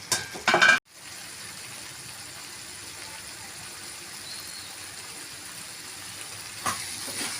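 Tomato thokku cooks under a lid in a pan. A brief clatter at the start gives way to a steady, soft sizzle and bubbling hiss that continues evenly to the end.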